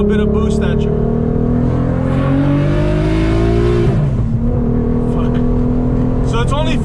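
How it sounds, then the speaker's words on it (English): Built VR6 engine in R30 configuration in an Audi RS3, running about 15 PSI of boost, pulls hard with a loud, rising harmonic drone through the gears, with a shift-like dip partway and steady cabin rumble, with talk over parts. "This is the built motor, VR6 R30 config. So I wanted to throw a little bit of boost at you."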